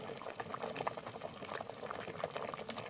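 Bamboo shoot curry simmering in a pot, a soft, continuous bubbling with irregular small pops and gurgles, close but faint.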